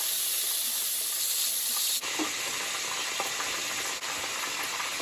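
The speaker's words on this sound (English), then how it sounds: "I'm going to add about 2 tablespoons of butter here" Butter for buffalo sauce sizzles and hisses steadily in a hot pan, a close, continuous frying crackle with faint stirring scrapes and two brief dips in the sizzle.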